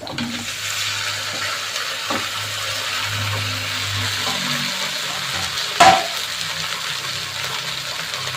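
Pieces of cut idli fry in oil along with chillies and curry leaves, a steady close sizzle and crackle running throughout, with a brief sharp clatter partway through as something is stirred or added.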